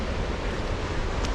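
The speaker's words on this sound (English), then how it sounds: "and there's waves. There's waves." Ocean surf rolls onto the beach at Jeffreys Bay during an early-morning surf contest, a continuous roaring wash mixed with gusty wind buffeting close to the microphone.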